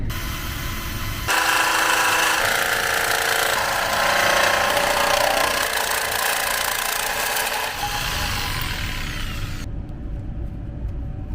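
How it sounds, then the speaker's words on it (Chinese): A loud, harsh electric jigsaw buzzes steadily for about eight seconds while cutting a hole in a pre-drilled panel for an exhaust fan, then cuts off abruptly. "让这个跳锯的那个锯片呢能够进去里面，把它割开"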